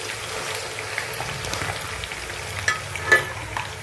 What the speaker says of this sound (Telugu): ఆయిల్లో బాగా మట్టించుకోవాలండి గోంగూర